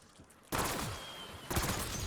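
Rapid automatic gunfire in Black Ops 6 Zombies, two dense bursts of fast shots after a quiet start, loud and continuous with no talking.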